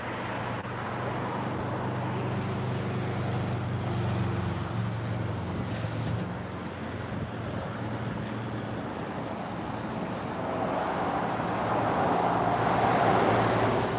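Slow traffic in a jam makes a steady low rumble of road and engine noise, with some wind buffeting and a slight rise toward the end; nobody speaks.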